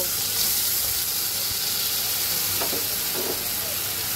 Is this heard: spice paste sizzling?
yes